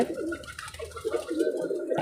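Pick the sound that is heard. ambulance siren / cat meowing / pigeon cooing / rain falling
pigeon cooing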